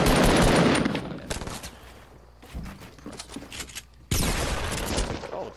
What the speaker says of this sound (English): That was a good fucking shotgun shot.